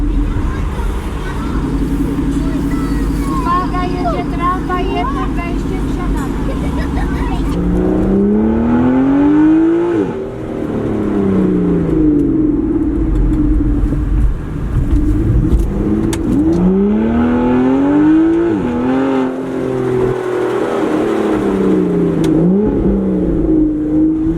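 After several seconds of mixed background noise with some voices, an Aston Martin Vanquish S Ultimate accelerates hard, its engine rising loudly and falling back through repeated gear changes, heard up close from the cabin.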